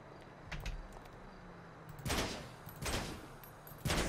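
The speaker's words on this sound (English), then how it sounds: "I'm already shooting the tires out." Gunshots fired at a car's tires in a video game, a few sharp loud bursts separated by pauses over a quiet background rumble.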